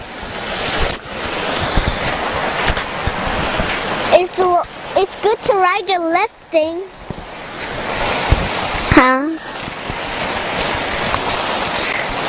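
Water of a small river rushes and splashes continuously on a rainy day, a steady broadband wash heard close up, with people talking and laughing over it in the middle.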